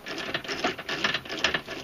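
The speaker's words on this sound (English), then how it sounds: "I'm going to just basically use a 3/8 ratchet with a 1/2-inch socket to go ahead and snug up the lock nut" A 3/8 ratchet with a 1/2-inch socket snugging up a lock nut on a stake pocket anchor of a Polaris Ranger, giving a close, rapid run of clicking pawl strokes in uneven bursts.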